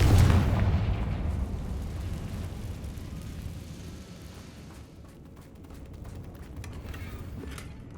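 A Confringo fire spell detonates in Hogwarts Legacy, a heavy booming blast at the start that rolls off into a long rumbling decay, with game ambience and faint crackling debris continuing afterward.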